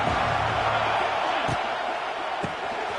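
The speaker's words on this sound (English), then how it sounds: "This crowd ready to make its presence known." Football stadium crowd roaring steadily as a dense, loud wash of cheering that holds for the full few seconds, with a couple of brief thumps standing out.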